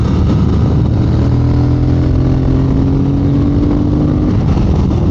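Triumph Speed Twin motorcycle on a mountain road pulling away and accelerating, a steady loud engine drone with rising harmonic tones that climb through the run, close and continuous with wind rush.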